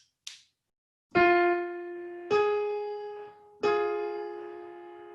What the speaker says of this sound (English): So there is your minor third.